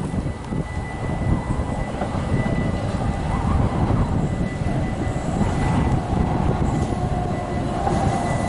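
A DB long-distance train to Hengelo rumbles steadily along the tracks, a continuous low roar heard from inside, with no talking.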